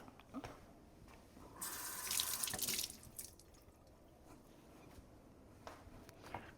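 Fresh basil is rinsed under a running kitchen tap, a short burst of splashing water in the middle with quieter drips and handling noises before and after.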